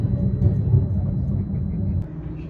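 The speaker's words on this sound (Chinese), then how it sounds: "又看到这个小飞机挂的广告条幅在天空中飞过去了" A small plane towing an advertising banner passes over downtown Detroit, producing a steady, low droning rumble that eases slightly toward the end, with faint voices underneath.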